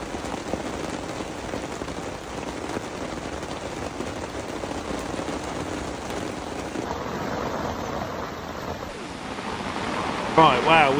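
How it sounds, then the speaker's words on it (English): Heavy rain falls outdoors at a carp fishing lake, a steady dense hiss of drops that holds evenly throughout at moderate loudness. "Starting to rain, so time to head back."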